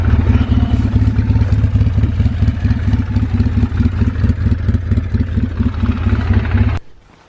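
A vehicle engine drones steadily while driving, with a loud low rumble and rattling clatter that runs throughout and then cuts off abruptly near the end.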